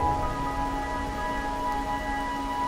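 Steady rain falls in a Wuthering Waves game scene, a soft continuous patter with a faint tonal hum of ambient music beneath, even and unbroken throughout.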